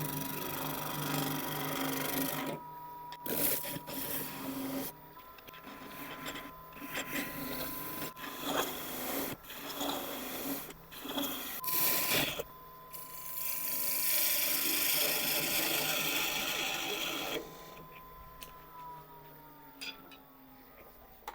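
A wood lathe spins a blank being turned round with gouge cuts, a steady motor hum broken by repeated scraping and chattering bursts of tool contact, with brief pauses between passes.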